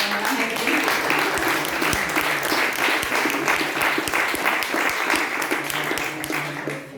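Sustained audience applause at a musical reading event, a thick steady clatter of many clapping hands lasting several seconds and fading slightly at the end.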